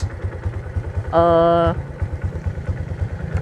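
A custom motorcycle with a modified SND block idles during a test ride, its engine throbbing in a steady low pulse. A short tonal beep sounds in the middle.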